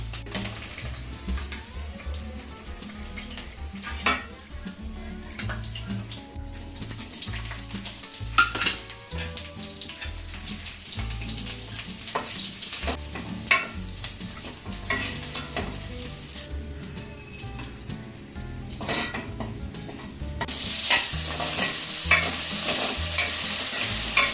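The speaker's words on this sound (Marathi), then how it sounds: "आपल्या भाज्या फ्राय करायच्या।" Paneer and vegetables fry in hot oil in a kadhai for veg biryani, a steady close sizzle broken by spoon stirring and clattering utensils, growing louder toward the end, with no talking.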